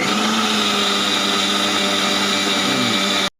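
Electric blender grinding ginger, garlic and whole spices such as bay leaf, cardamom, cinnamon and cloves gives a loud, steady, close whirring roar that runs without pause, then cuts off abruptly at the very end.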